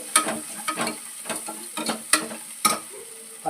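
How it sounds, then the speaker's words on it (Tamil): Tomatoes go into a pan of sautéed onions with cinnamon, cloves and cardamom for chicken biryani, with sizzling and a series of spoon scrapes and clinks from stirring, close and fairly quiet, no voices. "போட்ட பிறகு தக்காளி போடுறோம்"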